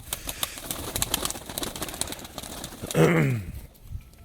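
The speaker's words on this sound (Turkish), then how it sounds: "Bunlar hep puanlanmış kuşlar" Racing pigeons, birds that have competed in races, in a loft: many sharp flutters and wing claps through the first three seconds, then a close, loud burst of cooing and flapping that fades out.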